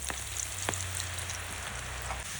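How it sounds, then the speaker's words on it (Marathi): Sliced jackfruit pieces frying in coconut oil in a Konkan home kitchen give a steady, close sizzle with fine bubbling crackle, continuous and unbroken, with no voices. "आता मी ते खोबरेल तेलात तळते."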